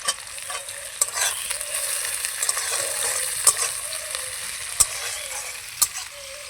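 Crushed garlic and browned onion fry in hot oil as a tempering for lentil dal, giving a steady close sizzle with occasional sharp pops and stirring scrapes.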